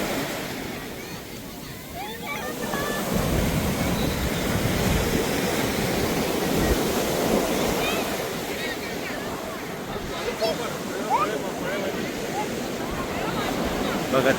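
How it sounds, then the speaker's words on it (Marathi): Sea waves rolling onto a wide open beach, a continuous broad wash of surf with wind buffeting the microphone, and faint voices mixed in at a distance. "तर मस्त तसा लाटा येत आहेत जवळ."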